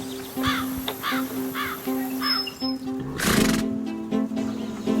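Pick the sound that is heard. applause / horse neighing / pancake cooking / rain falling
horse neighing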